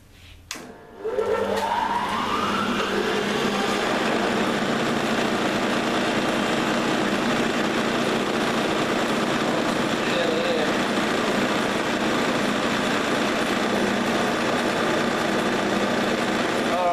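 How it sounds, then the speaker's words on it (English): An old metal lathe starting up with a short clunk, then whining up to speed and running steadily with a continuous mechanical hum and rattle, loud and close, while a person talks over it. "So now that the lathe's going"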